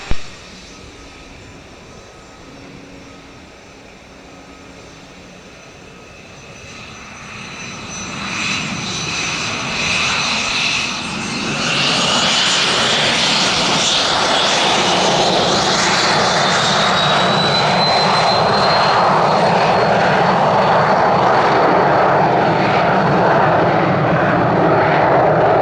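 A Cessna Citation business jet taking off from runway 26 left at Spirit of St. Louis Airport, its engine roar swelling from a quiet idle into a loud sustained whine and rush that stays heavy through the climb-out.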